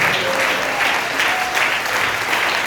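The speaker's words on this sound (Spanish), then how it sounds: "Les aplauso al Señor Jesucristo." A church congregation applauds during a sermon, sustained dense clapping in steady waves, loud and close, with faint voices and a thin tone threaded underneath.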